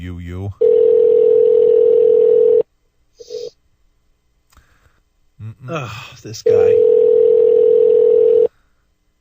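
Ringback tone on an outgoing telephone call: two long, steady, loud tones about four seconds apart, with a voice speaking briefly in the gap between them.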